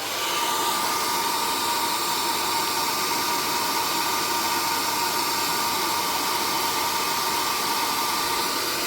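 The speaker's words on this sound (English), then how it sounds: "if I run the hairdryer over it" A hair dryer blows steadily and loudly throughout, a constant whooshing roar with a faint high whine, no voices.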